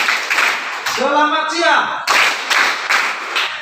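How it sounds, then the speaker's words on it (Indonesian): A classroom claps in unison three times in a call-and-response game, sharp bursts separated by a spoken greeting from a voice in the room. "tepukannya 3 kali"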